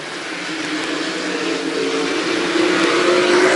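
Race cars in a heat race on a speedway, engines droning steadily and building slightly in pitch as the field runs together, loud and continuous with no talk.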